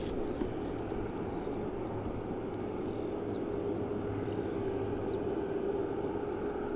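An Aer Lingus airliner at Dublin Airport makes a steady, distant engine roar with a low rumbling drone that holds evenly for several seconds.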